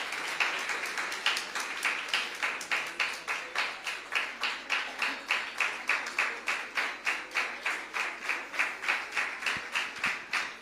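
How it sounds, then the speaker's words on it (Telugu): An audience at a Christian fasting prayer gathering claps in unison to welcome a pastor, with steady rhythmic claps, about three per second, continuing for about ten seconds at moderate distance. "అందరూ కూడా చప్పట్లు కొట్టి వారిని ఆహ్వానిద్దాం"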